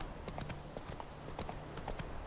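Roach, a horse in the video game The Witcher 3, trots with steady, even clip-clop hoofbeats at close range over a low ambient bed, with no talk present.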